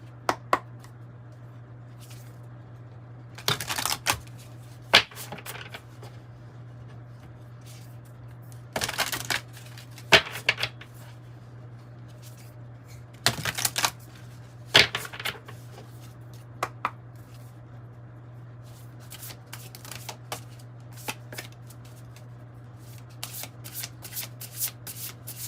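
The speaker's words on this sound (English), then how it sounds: "Let's say this is really hard to shuffle." Oracle cards are shuffled in irregular bursts of papery riffling and slapping, close and crisp, separated by pauses over a low steady hum.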